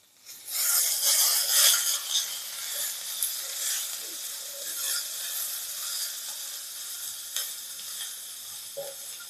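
Salted vegetables sauté in a hot pan for a ragi kichadi breakfast, giving a loud, steady hiss of sizzling oil that starts abruptly and runs throughout, with occasional scraping stirs near at hand and no talking.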